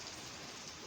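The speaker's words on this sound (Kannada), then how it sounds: "ರೈನ್ ಐತಿ." Steady rain falls in a soft, even hiss with no breaks, faint and distant throughout the brief moment, with no voices.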